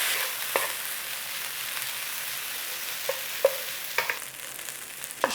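Yang Chow fried rice with dark soy sauce stir-fried in a hot pan, a steady close sizzle with soft scraping strokes and a few light clinks of the utensil.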